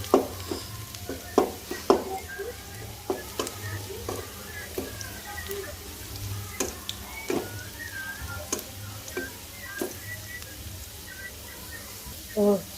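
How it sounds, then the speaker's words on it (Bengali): Onions fry quietly in a pan under soft background noise, with frequent clicks and scrapes of a spoon stirring against the metal; a voice speaks now and then. "পেঁয়াজটা ভাজা হয়ে গেছে"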